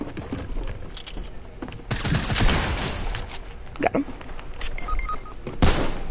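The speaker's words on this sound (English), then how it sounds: "machine gun." Rapid machine gun fire rattles through an online shooter video game match, dense bursts crackling loudly over a noisy mix, with players chatting alongside the shots.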